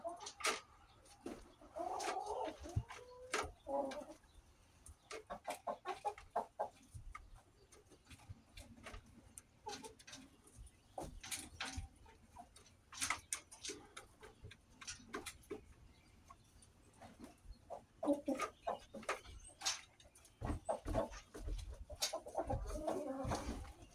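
Soft, scattered clucks and clicking pecks from chickens, fairly faint and irregular, with occasional brief bursts of louder clucking over a quiet background.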